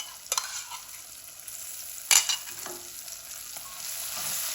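Spices and chickpeas are roasted in a pan, with a steady low sizzle running throughout and a couple of sharp scrapes from the stirring spoon breaking through, close up and with no talking.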